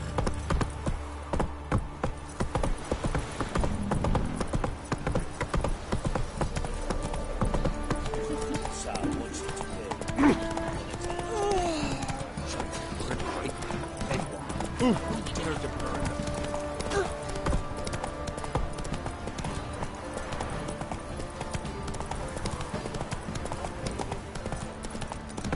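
Roach the horse gallops in The Witcher 3 with a steady, rapid run of hoofbeats throughout, close and continuous, while a voice speaks over the game sounds.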